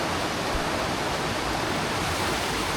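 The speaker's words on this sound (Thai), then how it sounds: "ได้ยินโอ้ เสียงลำธารอย่างชัดอ่ะเพราะว่าอยู่ติดกับลำธาร" Steady rushing water of a nearby forest stream by a village, a constant broadband wash with no pauses or voices.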